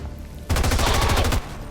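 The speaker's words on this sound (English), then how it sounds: "Let's then fire at the officer." A video game weapon opens fire on an officer: a loud, rapid burst of about a dozen gunshots in quick succession lasting just under a second, standing alone and close.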